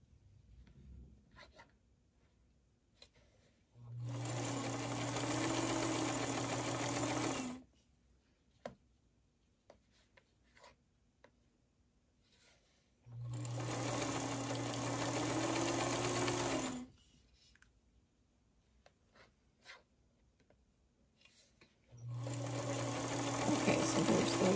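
A sewing machine stitches a quarter-inch seam on a 5-inch quilt block, running in three steady bursts of a few seconds each, separated by quiet pauses. The sound is close and clear, with no talking.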